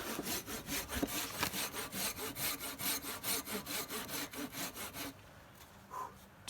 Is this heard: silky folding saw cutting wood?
yes